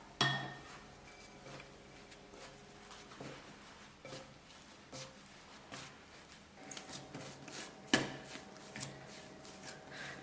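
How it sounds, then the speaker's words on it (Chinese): Flour dough, mixed with salted water, cooking oil and leavening, is pressed and worked by hand on a surface, giving soft repeated slaps and rustles with occasional light knocks, close and fairly quiet. "下手揉成团儿。"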